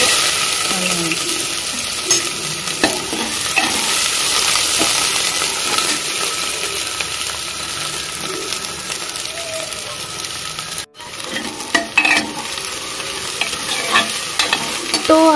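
Sugar and bay leaf fry in hot oil in a pressure cooker for a home-style mutton curry, giving a loud continuous crackling sizzle with stirring clatter and brief scrapes, close, with some background noise.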